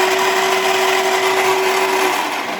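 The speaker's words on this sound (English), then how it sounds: "Take these spices up and grind them up." An electric spice grinder whirs loudly and steadily as it grinds spices for an air fryer chicken coating, one continuous high motor drone that fades slightly at the end.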